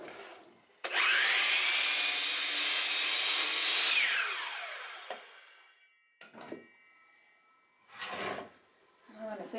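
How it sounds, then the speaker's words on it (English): A split wooden deck board being cut with a saw, one loud continuous cutting run of about three seconds that tapers off, followed by a few quieter knocks and shuffles of handling the board. "So I'm going to cut it right about here, just to clean that side up."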